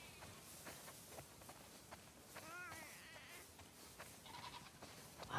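Several sheep in the video game The Last of Us Part II bleat in short, wavering calls, one after another, over a quiet background with faint rustling and soft footsteps.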